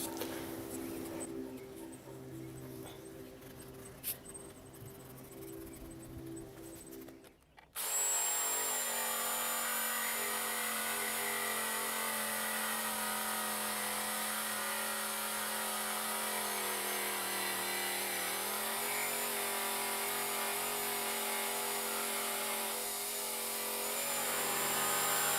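Power tool cutting a glued-up guitar body board to shape for a custom Les Paul build, starting abruptly after a quieter stretch and then running loud and steady with a strained, sustained whine to the end.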